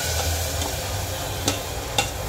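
Soaked dal goes into a hot tempering in a pan and is stirred, a soft continuous sizzle with a couple of sharp scraping clacks of the spoon near the end.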